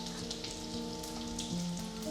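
Fish pieces frying in a pan for a fish pickle, a steady close crackling sizzle of hot oil with a faint tonal hum underneath, no talking.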